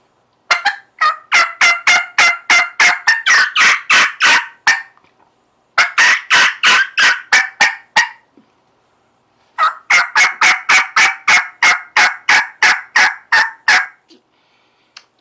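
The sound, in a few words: hunter imitating hen turkey calls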